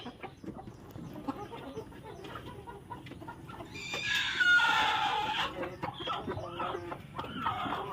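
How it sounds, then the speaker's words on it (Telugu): Free-range country chickens cluck around the yard while eating, with a louder squawking outburst near the middle over a steady farmyard background. "మన కోళ్ళు తినేస్తున్నాయి"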